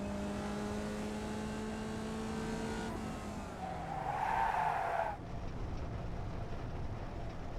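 Car skidding and spinning out in the iRacing sim, a tonal engine drone that falls away before a loud, swelling tire screech peaks and cuts off abruptly, with no talk.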